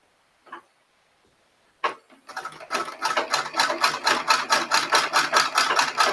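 A sewing machine starts up and stitches steadily, its rapid, even mechanical pulses running close and continuous after a couple of brief knocks.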